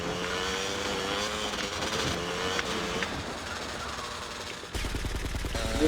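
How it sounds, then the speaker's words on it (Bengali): Rapid gunfire bursts in GTA Vice City ring out over dense game noise and engine rumble, the sound shifting abruptly near the end into a heavier, rhythmic mechanical chatter. "গুলি কর, গুলি কর, গুলি কর, গুলি কর।"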